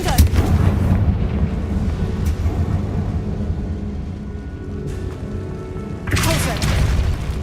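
Confringo spell blasts go off in the video game Hogwarts Legacy, with a loud booming burst at the start, a rumbling tail, and another heavy blast near the end, under faint shouted spell voices.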